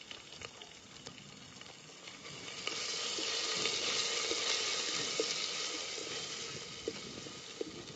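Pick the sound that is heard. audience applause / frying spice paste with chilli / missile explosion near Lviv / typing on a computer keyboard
frying spice paste with chilli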